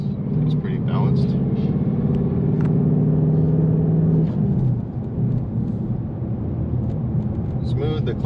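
Ford Mustang GT exhaust heard from inside the cabin, a steady low rumble droning loudly throughout, easing slightly near the end, with a person talking over it.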